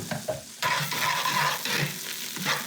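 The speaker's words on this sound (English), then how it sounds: "You only want the garlic and the rosemary to go in for a minute before it gets wet" Garlic and rosemary frying in a hot pan, a steady close sizzle that swells as the pan is stirred, with scraping movements breaking through the hiss and no talk.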